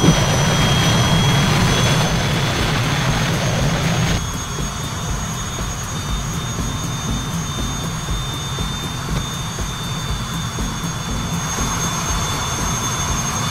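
Jet engine of an aircraft in the FlightGear flight simulator roaring steadily as it speeds up toward 450 knots, a loud broadband rush with a high whine above, dropping slightly in level partway through.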